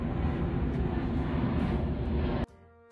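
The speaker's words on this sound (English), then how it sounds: "there's another freaking plane coming" A fixed-wing airplane passes overhead as a loud, steady broadband roar that fills the first two and a half seconds, then cuts off abruptly, leaving faint background.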